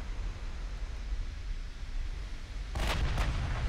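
Naval guns fire in the battleship game Ultimate Admiral Dreadnoughts: a steady roar of sea and wind, then two sharp, loud cannon reports close together near the end.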